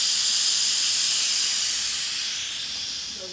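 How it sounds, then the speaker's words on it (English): An Instant Pot pressure cooker holding lentils and carrots vents its steam in a loud, steady, close hiss that fades slightly toward the end, with no speech. "So here we are venting out the air from the instant pot."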